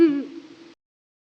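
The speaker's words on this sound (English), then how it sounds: "Recordings of the birds, played back through amplifiers, are used to stimulate the song of territorial males in particular." A Ural owl hoot played back through an amplifier, one deep steady call lasting under a second with a bright onset, then silence.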